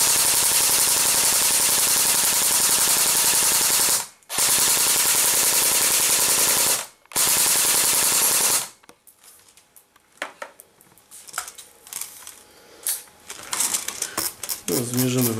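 Loud sustained bursts of rapid automatic fire from a CYMA AKS74U airsoft rifle, briefly interrupted twice, then sharp mechanical clicks and rattles at close range.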